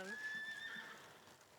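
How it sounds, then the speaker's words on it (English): A horse at a rodeo camp gives a single drawn-out neigh lasting over a second, moderately loud and fairly close, fading slightly toward the end. "my horse's name is Ivy"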